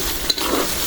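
Ground spice paste of ginger, garlic, dried chilli, coriander, cumin, pepper, cardamom and cinnamon frying in a pan, a brief close hiss and sizzle with a light stirring scrape.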